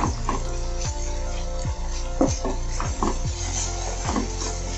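Masala being stir-fried in a pan on low-to-medium flame for Bengali egg curry, with a soft sizzle under repeated scraping strokes of a spatula against the pan, close and steady.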